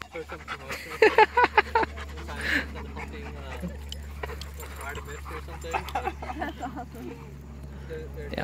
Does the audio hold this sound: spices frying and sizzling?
no